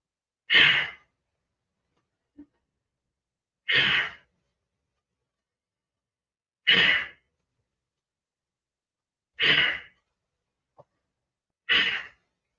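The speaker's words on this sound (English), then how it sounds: "Take a deep breath in on the top, and then as you come down, sharply breathe out" Five separate, forceful breathing bursts spaced about three seconds apart, each a sharp breathy exhale during an arm-raising breathing exercise, close and clear with near silence between them.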